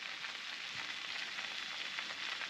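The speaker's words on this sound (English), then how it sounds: "it's come to the boil, so I've just turned the heat down so it's on a just gentle simmer" Hawthorn berries cook at a gentle simmer in a pot for ketchup, making a faint, even, fizzing bubble that continues steadily with no voices.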